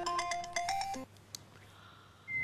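A mobile phone plays a melodic ringtone for an incoming call, with bright repeated tones close by that stop abruptly, followed by a faint click and a thin steady tone.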